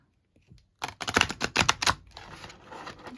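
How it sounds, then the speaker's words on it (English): A quick burst of crisp, rapid clicking like cards being riffled together, followed by a softer, steady papery rustle as the deck settles, close and fairly loud. "let's shuffle out the cards"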